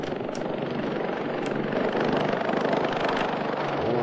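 A Bell 407 helicopter in the BeamNG Drive video game gives a steady, loud rotor and turbine drone with rhythmic blade chop, continuous throughout without speech.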